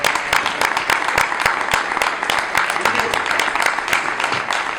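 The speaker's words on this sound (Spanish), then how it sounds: "Se le puede dar un aplauso si lo estimáis" An audience at an olive-industry conference in Seville breaks into dense, steady applause, many hands clapping together at a fairly loud level for the whole stretch.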